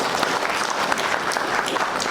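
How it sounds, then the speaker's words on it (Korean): Seminar audience in a lecture hall giving a short burst of welcoming applause, dense steady clapping throughout with no talk. "박수로 환영해 주시죠."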